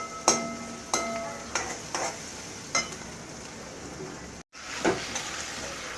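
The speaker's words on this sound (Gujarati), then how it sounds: "ડુંગળીને સાતડી લઈશું કચરી ચડે ત્યાં સુધી" Onions sautéing in a pan with a soft, steady sizzle, punctuated by several sharp scrapes and clinks of a spoon stirring against the metal at irregular intervals, heard up close with no talking.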